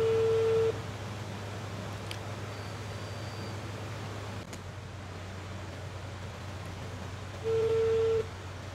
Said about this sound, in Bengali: নাম্বার 1কে কল দিচ্ছি, রিং হচ্ছে,